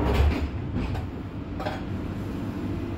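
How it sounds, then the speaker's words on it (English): A London Underground Central line 1992 stock train runs with a steady, muffled rumble and faint rail rattle, heard from inside the carriage at a low, even level. "This is a Central Line train to Hainault via Newbury Park."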